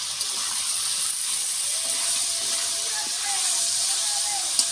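Chicken meat sizzling steadily in a pan, a continuous bright frying hiss that stays even and fairly close throughout.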